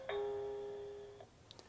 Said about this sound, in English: Now I'm going to press the doorbell button.